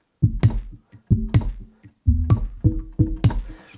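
Kick drums from a Steinberg Backbone drum re-synthesizer, deep punchy thumps in short clustered patterns of three to four hits, separated by brief pauses, close and alone.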